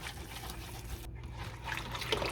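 Milk trickles and splashes faintly into a saucepan of bread pudding sauce while being whisked, a quiet liquid patter with a brief gap and soft clinks near the end.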